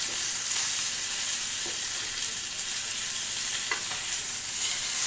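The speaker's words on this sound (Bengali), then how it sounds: "আমি এভাবে মাছগুলোকে চিপে চিপে ভেজে নিচ্ছি" Fish is pressed down as it fries in a pan, a loud, steady high-pitched sizzle broken now and then by soft pressing and stirring sounds.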